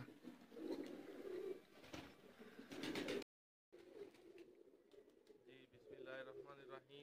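Kamagar pigeons coo softly in repeated low phrases, mixed with rustling and a voice speaking in the first half.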